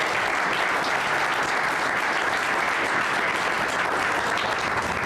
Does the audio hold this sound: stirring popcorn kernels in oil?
no